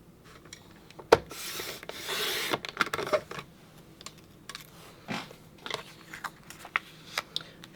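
A photo being trimmed for a Creative Memories travel album, a quarter inch taken off each side: close scraping and rasping cuts with small clicks and taps, one longer rub in the middle, no talking.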